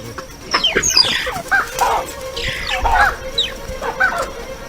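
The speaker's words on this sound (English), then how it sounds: "the baboons respond swiftly to their chirping alarm calls" Sharp, high chirping alarm calls from mongooses come in rapid overlapping bursts, loud and close, over a faint outdoor background.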